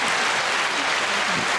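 Loud, dense studio-audience applause for a rapper after a track from her debut album, a continuous wash of clapping with no voices.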